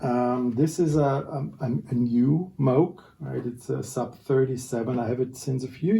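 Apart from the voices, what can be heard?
No everyday noises stand out.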